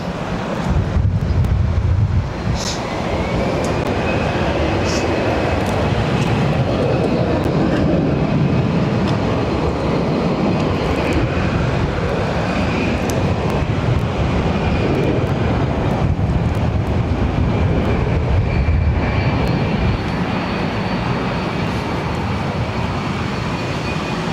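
Jet airliner arriving at Barcelona airport from JFK, a steady loud engine roar with a rising whine, continuous throughout with wind buffeting the microphone.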